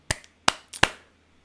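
Three sharp hand claps ring out close and alone, spaced unevenly over a second and a half, each a crisp slap with a short decay.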